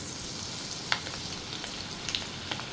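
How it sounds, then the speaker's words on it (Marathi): Okra frying in hot oil, a steady hiss of bubbling with a few sharp crackles and pops over a few seconds. "आपण आता ही तळून घेणार आहोत"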